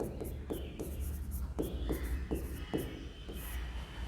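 Pen or chalk writing out a fraction by hand, a run of short repeated scratchy strokes at a steady rhythm, close and fairly clear over a low room hum.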